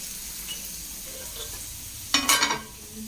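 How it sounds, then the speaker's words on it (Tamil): Curry leaves, onion and mustard seeds tempering in hot oil for a simple greens curry: a faint background hiss, then a sudden loud burst of crackling sizzle lasting about half a second before it settles back down. "கருவேப்பிலை, வெங்காயம், கடுகு இதை வச்சு நல்லா தாளிச்சுக்கிற வேண்டியது"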